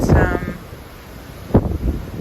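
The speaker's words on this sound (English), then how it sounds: "still raining, still windy" Gusty wind with rain in Nassau buffets the microphone in heavy low rumbling bursts, strongest at the start and again near the end, with no one speaking.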